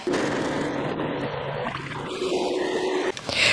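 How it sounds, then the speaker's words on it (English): A kitchen blender whirs steadily as it blends a birria sauce of marjoram, chicken broth cubes, tomato sauce, water and salt, a loud continuous motor roar with churning liquid that holds for several seconds before briefly dipping and surging again. "Now we're going to blend it."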